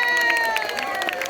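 An audience at a school morning concert at Bialik school greets a performer with a brief burst of applause and cheering, while bright sustained tones ring over the crowd noise.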